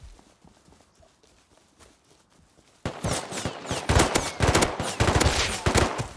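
Gunfire in a video game firefight: after a quiet stretch, loud, rapid bursts of shots erupt and continue in dense, overlapping volleys until the end.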